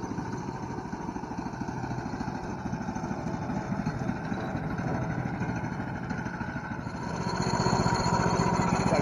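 Hudson small farm sawmill running its engine while cutting a red oak log into lumber, a steady mid-pitched motor drone that grows louder toward the end, with no voices.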